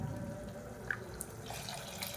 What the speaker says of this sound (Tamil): இந்த ஸ்டேஜில் தண்ணி சேர்த்துக்கலாம்.